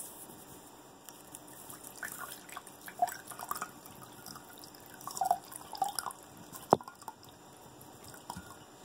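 Faint, sparse drips of potato water fall through cheesecloth at irregular intervals against a quiet background hiss.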